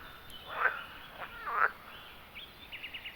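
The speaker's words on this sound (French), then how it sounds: "Le cri de la grenouille s'appelle le croassement." A frog croaks in a woodland pond: two or three rasping calls, then a quick run of short, higher chirping notes, moderately close over quiet background ambience.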